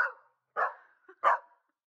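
A corgi barks three times, sharp and close, with short silent gaps between the barks and a tiny yip before the last one.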